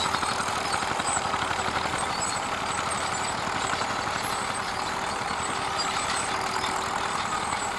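A vintage Fiat tractor from the 1960s, a 55C or 70R, runs steadily at a ploughing festival, its engine a constant loud drone with a low rumble and no break or change in pace.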